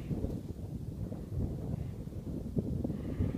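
Strong wind buffets the microphone while snowkiting across patchy, partly bare ice, a steady low rumbling roar with gusty swells throughout and no other clear sounds.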